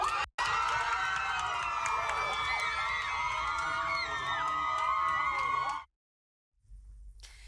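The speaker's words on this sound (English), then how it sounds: "The cheering, the clapping" Crowd at a city council meeting erupting in loud, sustained cheering, whooping and clapping right after a ceasefire resolution vote, continuing steadily for several seconds before cutting to silence, then a faint low murmur.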